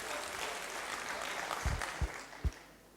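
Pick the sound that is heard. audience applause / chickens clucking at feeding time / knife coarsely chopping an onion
audience applause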